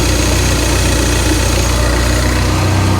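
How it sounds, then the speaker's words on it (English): A Peugeot RCZ-R engine, leaking oil around a bolt head, idles loudly and close by with a steady low rumble and rhythmic vibration, uneven and knocking slightly, without speech. "engine's having a right flap about"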